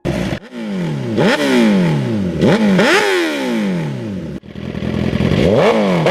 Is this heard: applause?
no